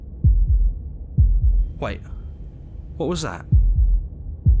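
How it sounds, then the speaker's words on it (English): Slow, deep heartbeats in Slay the Princess thump in pairs, loud and close, continuing steadily while a voice speaks briefly in between. "That was the sound of a heartbeat,"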